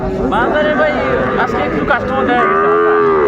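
Cattle, young bulls and heifers, mooing repeatedly at a busy outdoor livestock market, long low calls overlapping with crowd chatter and background hubbub.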